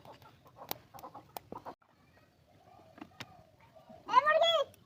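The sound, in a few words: chicken clucking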